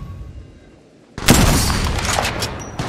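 Apex Legends gunfire bursts in suddenly after a quiet second, a dense loud volley with booming thuds that keeps going to the end.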